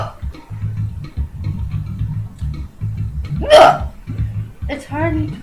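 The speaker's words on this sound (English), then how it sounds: "It's hard to play Donkey Kong talking on the phone while you have hiccups." A person with a bout of hiccups while playing Donkey Kong lets out a sharp hiccup midway, then a second one near the end, against a low, rhythmic background of game sounds or music, with no clear talk.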